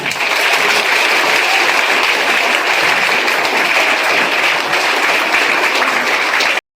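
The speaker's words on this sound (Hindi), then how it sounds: "जोरदार तालियां होनी चाहिए, जोरदार।" Loud, sustained applause from a crowd at a school motivational seminar at an inter college, a dense even roar of clapping hands lasting several seconds before cutting off abruptly.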